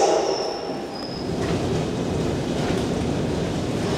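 A Merseyrail-area train bound for West Kirby rumbles past with a low, continuous rolling roar of wheels on track, a thin high squeal briefly riding over it at the start, loud and close.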